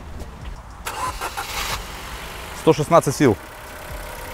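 A 17-year-old Ford Focus 2 with a 1.6 engine cranks and catches amid broadband noise, with people talking over it before and during the start.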